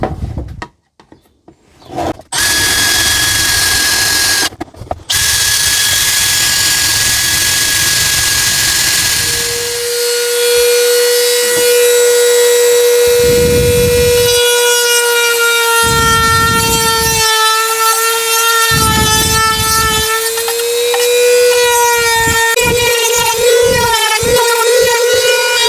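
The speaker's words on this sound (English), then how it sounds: "we'll drill those out with a drill and just finish them off" A power drill boring holes in a costume mask whines in repeated bursts, its pitch rising and falling as it bores, loud and close, with a steady background roar throughout.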